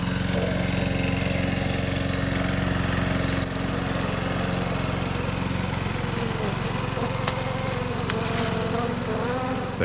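A lawnmower engine runs steadily at close range, a loud continuous droning hum with a constant pitch, alone and unbroken throughout.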